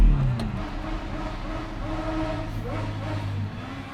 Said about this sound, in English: So that's a motorbike revving the nuts out of itself.